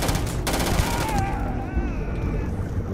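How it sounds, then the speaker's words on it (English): Rapid bursts from a futuristic machine gun in the video game Starfield, a fast rattling fusillade for the first second or so, then quieter game tones. "Shoot this machine gun."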